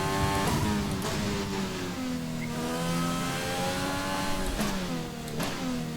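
Formula 1 car in the F1 2020 racing game at the Shanghai circuit, its high-revving engine screaming loud and close throughout, pitch climbing through the gears with short dips at shifts, no talk over it.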